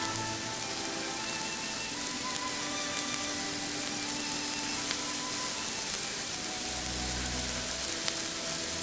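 Six pot sticker dumplings pan-frying in a pan, giving a constant, rain-like sizzle with fine crackles that holds evenly throughout, plus a low rumble near the end.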